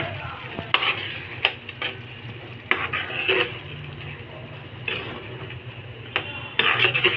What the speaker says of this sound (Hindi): अब जो है वो कड़ी फ्राई होने लग गई है